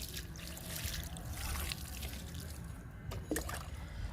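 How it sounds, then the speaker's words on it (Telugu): Water pours and trickles steadily onto compost made from green grass for a few seconds, a soft continuous splashing close by, with a few brief clinks near the end. "కంపోస్ట్కి వాటర్ ఇద్దాము"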